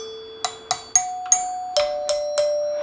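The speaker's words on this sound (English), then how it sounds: "This is an 8-note bar chime because you have the tone bars" A NuTone LA71 Electronic Madison 8-note bar door chime with metal tone bars plays a rising and falling sequence of bell-like notes, each struck note ringing and overlapping the last, loud and close.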